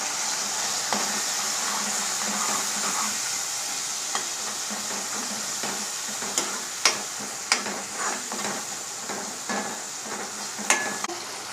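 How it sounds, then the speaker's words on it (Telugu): Salt, chili powder and turmeric are stirred into an egg, drumstick and tomato curry, with soft scattered scrapes and clinks of a spoon over a constant faint simmering sizzle. "ఇందులోనే రుచికి సరిపడా ఉప్పు, కారం, పసుపు వేసుకొని ఒకసారి కలుపుకుందాం."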